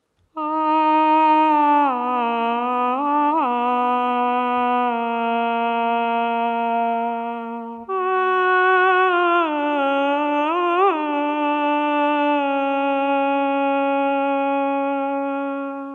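A sampled female vocal phrase in operatic style from the Arabian Nights patch of the Charisma Vol 1 library, sung clearly with vibrato and slight pitch bends, repeated a second time at a different pitch, with no other sound.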